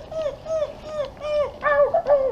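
A dog whimpers and whines in a rapid run of high, quavering cries, close and fairly loud, with no talk over it.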